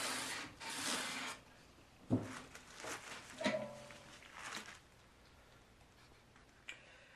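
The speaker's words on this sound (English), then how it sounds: "Now that I've got the fretboard sanded and radiused properly" Sandpaper rubs along a 12-string Stratocaster relic fretboard to bring it back to radius: soft, separate scraping strokes with a few sharper knocks in between, fairly quiet and close.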